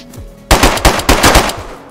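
Gunfire in the video game DayZ: after a faint lead-in, a rapid close burst of about six loud automatic shots rings out in quick succession, with no talk.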